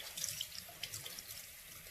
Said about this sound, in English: It's kind of cold now, so I'm gonna rinse it with warm water again.